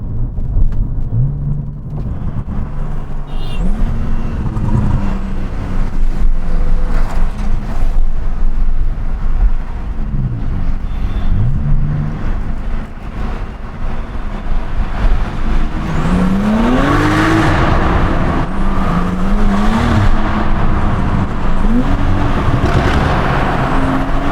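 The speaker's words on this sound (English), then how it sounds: "make you guys listen to how the exhaust sounds" A Porsche Carrera S Stage 2 tuned to 450 hp, in sports mode, loudly drones and roars as the engine revs and accelerates through a tunnel, rising in pitch through gear changes, echoing.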